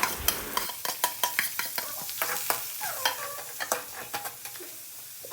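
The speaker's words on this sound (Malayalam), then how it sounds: "മാഗി ഉണ്ടാക്കാൻ ഉള്ളി തക്കാളി വഴറ്റാം" Onion, tomato and green chilli sizzling in a hot pan while a utensil stirs them in quick, repeated scrapes and clinks, close and fairly loud.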